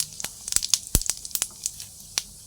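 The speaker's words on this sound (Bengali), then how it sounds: "এই দেখো শুকনো লঙ্কা গরম মশলা আর একটু জিরে দিয়ে দিলাম তেলে" Dried red chillies, garam masala and cumin hitting hot oil for a chicken curry, giving a close, faint, irregular crackle of sharp pops and spits with quiet gaps between them, no voices.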